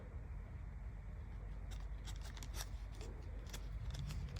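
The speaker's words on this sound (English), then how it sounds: "another trick that I might use is to cut off some of this outer hose" Scissors snip through the outer fabric layer of an expanding garden hose, a run of short, crisp cuts close by over a steady low background hum.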